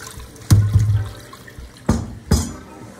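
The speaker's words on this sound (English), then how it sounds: "Wash the potatoes." Bursts of splashing water and thudding knocks as potatoes are rinsed and handled under running water in a sink, three distinct splashes with quiet gaps between.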